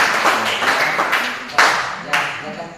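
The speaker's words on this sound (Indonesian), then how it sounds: "Masih tepuk tangan yang mulia." Scattered clapping from a classroom group during a teaching-practice session, a few distinct sharp claps over background murmur of voices.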